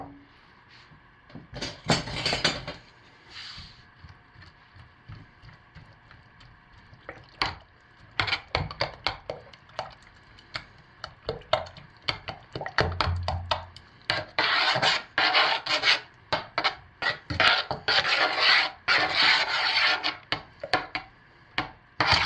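Ginger lime soap pieces being stirred into freshly stick-blended, thickening soap batter, giving repeated scraping and rubbing strokes that come in bursts, close and fairly loud, with no talking.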